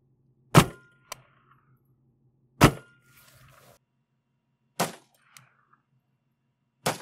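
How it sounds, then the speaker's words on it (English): A 9mm CZ Scorpion fires 147-grain rounds into clear ballistic gel outdoors at a range. Four sharp, loud shots ring out a few seconds apart, each followed by a brief metallic clink. "shoot it out of my friend's CZ Scorpion into cleared ballistics clear gel"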